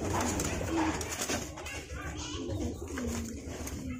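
Javanese pigeons coo softly several times in a short burst, their low murmuring calls mixed with faint background chatter and outdoor noise.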